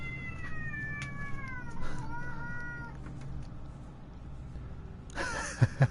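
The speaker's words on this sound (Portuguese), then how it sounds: "Um gato aqui, um gato," A cat meows several times in the horror video game Until Dawn, drawn-out cries over low ambient background, followed by a louder sharp sound at the end.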